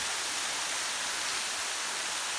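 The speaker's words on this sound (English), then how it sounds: "check out this cool waterfall" A waterfall on the Marble Mine Trail roars in a steady, dense broadband wash, constant and close, with no voices over it.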